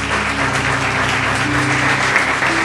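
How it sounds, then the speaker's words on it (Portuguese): A church congregation claps loudly in praise, a dense, even roar of hands that stays strong from start to finish, with a low sustained tone from instruments underneath. "Louve ao Senhor com as suas palmas bem forte."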